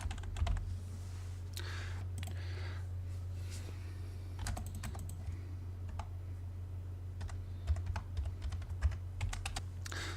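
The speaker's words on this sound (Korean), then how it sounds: "단축키를 입력하고" Keys clack on a computer keyboard as an AutoCAD shortcut command is entered, giving sparse clusters of quick, close clicks over a steady low hum, with no talking.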